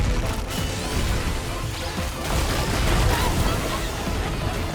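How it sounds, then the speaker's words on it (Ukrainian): Snake eggs being smashed in the video game Astro Bot, a run of loud crashing and cracking impacts packed close together across the whole stretch, with a busy mechanical clatter beneath. "Якщо розбивати яйця до того, як вони вилупляться, в принципі, тоді вони не вилупляться."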